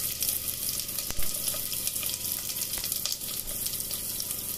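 Chopped onions fry in hot mustard oil with cumin, bay leaf, pepper, dried chilli, garlic and ginger, giving a dense, steady sizzle with crackles and a few sharp spatula knocks.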